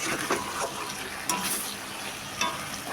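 Spice masala fries in a pan while being stirred, a soft, faint sizzle with occasional scrapes and clinks of a utensil against the pan.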